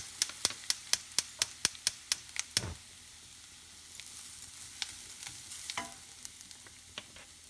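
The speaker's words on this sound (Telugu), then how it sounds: "మాడకుండా మంచిగా మీడియం ఫ్లేమ్ పెట్టి వేయించుకోవాలి" Curry leaves, turmeric and crushed spices fry in hot oil over medium flame for a coconut powder tempering, a steady sizzle broken by a quick run of sharp stirring clicks against the pan, then softer frying.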